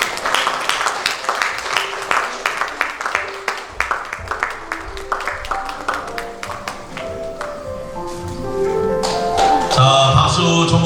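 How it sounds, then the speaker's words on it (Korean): Scattered claps from a church congregation at a pastor's ordination ceremony, distinct hand strikes spread across the room, giving way near the end to music. "자, 박수, 전부 박수 주세요."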